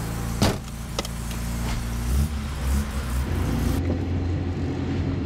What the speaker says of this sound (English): The fan's louder than the engine.